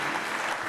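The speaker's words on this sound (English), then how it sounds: "a big round of applause for Mr. Forrest Smith" A brief burst of audience applause greets Mesa Fire Captain Forrest Smith, dense, even clapping filling the moment.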